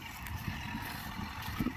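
Deutz-Fahr Agrolux 80 tractor pulling a Lemken plough through a field, its engine a steady low rumble heard from nearby with wind noise across the microphone.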